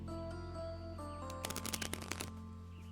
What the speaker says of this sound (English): let me shuffle the cards to cleanse them of their old energy